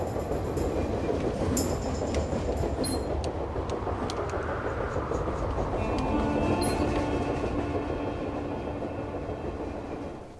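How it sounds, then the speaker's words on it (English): A steady, loud rolling rumble of a train riding on rails in the video game Type:Rider, with continuous clattering rail noise and a faint whine, holding for about ten seconds. "do I get on the train?"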